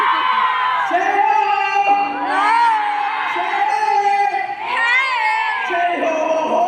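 A concert crowd screams and cheers loudly, with high, rising shouts and whoops in waves from many fans at once.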